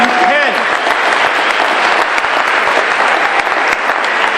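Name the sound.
audience round of applause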